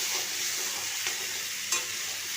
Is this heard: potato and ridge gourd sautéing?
yes